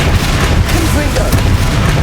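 Confringo fire spell detonating in Hogwarts Legacy, a dull booming blast mixed into busy game action, with a player shouting spell names over it.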